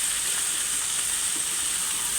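Sweet corn and ivy gourd (dondakaya) fry in a pan for a home-style curry, giving a steady, close, unbroken sizzle with a bright hiss and no talking.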